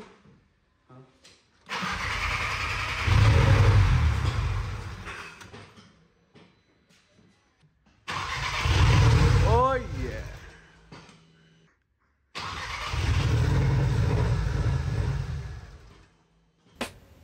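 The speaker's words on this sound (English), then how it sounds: "we started the engine after almost 4 months and it started" A car that has sat for almost four months cranks and starts in repeated attempts, three long bursts of engine noise separated by quiet gaps, with a low rumble and rising tones during the middle run.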